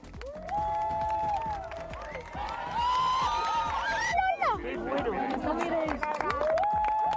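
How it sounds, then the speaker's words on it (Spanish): Crowd across Spain applauding and cheering as the moon first bites into the sun at the start of a solar eclipse, steady loud clapping and shouts with voices talking over it throughout. "cuando la luna le pega el primer bocado al sol, aplausos a los cielos de toda España"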